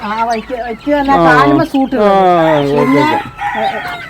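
Brahma rooster and native chickens crowing, several long loud crows in quick succession close by, with clucking around them and no people talking.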